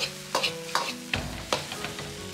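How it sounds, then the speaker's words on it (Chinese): Dry-pot chicken stir-fried in a wok over high heat, with sharp repeated scraping strokes of the spatula about every half second over a steady background sizzle. "继续保持大火翻炒均匀，炸开调料，炒出锅气，炒出香味"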